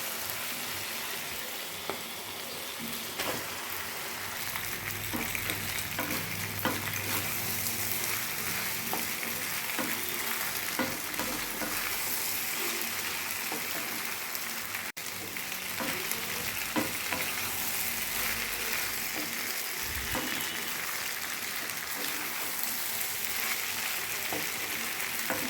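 Pasta sizzling steadily as it fries in a pan, with frequent scraping and clinking of a utensil stirring it, close and continuous with no talking.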